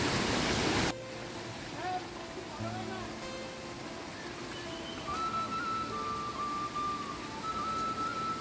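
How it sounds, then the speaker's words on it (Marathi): Steady rushing water noise of a waterfall in the distance on the Andharban forest trek, continuous throughout, with a few faint tonal sounds drifting over it. "समोर साईडला वॉटरफॉल आहे. पाणी मात्र कंटिन्यू चालू आहे."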